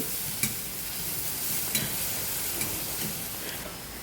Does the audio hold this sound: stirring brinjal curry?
yes